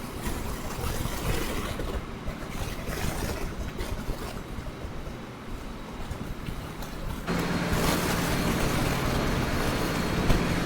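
In the video game Transport Fever 2, a train with carriages rolls along the track with a steady, dense rumble and clatter, a louder grinding layer taking over partway through and running continuously to the end.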